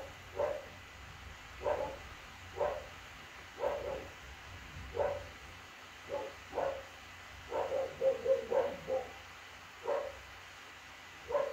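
Dogs bark outside at a distance, a string of single woofs and short bursts spread irregularly across about ten seconds, moderately loud against a quiet room with no voices.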